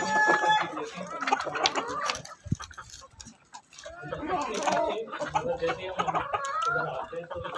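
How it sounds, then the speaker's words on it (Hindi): Desi hens cluck in an egg-laying cage on an urban rooftop farm in Pakistan, a busy jumble of near clucks and short calls from many birds, with someone talking over them. "ये हमारा जो है वो एग लेइंग केज है, इसमें हमारी सारी मुर्गियाँ हैं।"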